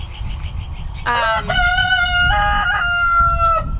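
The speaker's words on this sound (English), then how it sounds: "Rooster had to make himself known." A rooster crows loudly and close by, one long drawn-out cock-a-doodle-doo over a steady rumble of road traffic.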